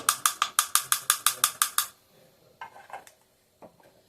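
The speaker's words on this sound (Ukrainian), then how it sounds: "Добре це все перемішую." Minced meat with chopped onion, ground pepper and salt is mixed in a bowl, starting with a quick even run of about ten sharp utensil clicks, then softer scattered scrapes and knocks, close by.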